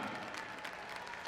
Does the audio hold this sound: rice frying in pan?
no